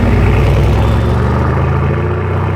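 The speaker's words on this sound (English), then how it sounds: "is that a purple Lambo?" A purple Lamborghini engine roars loud and near, a dense steady growl that holds strong for a couple of seconds, then eases slightly toward the end.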